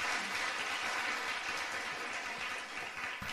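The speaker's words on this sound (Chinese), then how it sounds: "掌声有请。" An audience at a storytelling event applauds to welcome a pingshu storyteller, a steady wash of clapping at moderate volume that dips slightly near the end.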